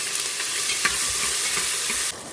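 Onion sizzling in a pan with roasted cumin and ajwain, a dense, steady frying hiss with faint stirring scrapes, close and loud, cutting off abruptly just before the end.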